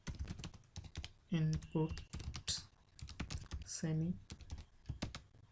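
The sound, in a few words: typing on a computer keyboard while writing code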